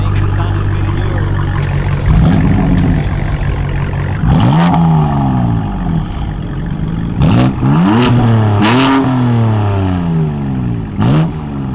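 A Dodge Challenger Scat Pack revs hard several times at close range, each loud throttle blip rising and falling in pitch over a steady rumbling idle, with short gaps between the bursts.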